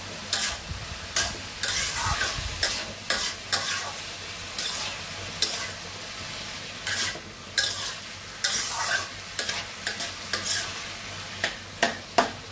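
Vegetables frying in a pan give a steady sizzle, while a spatula stirs them with repeated scraping clacks and taps at an irregular rhythm. No one speaks.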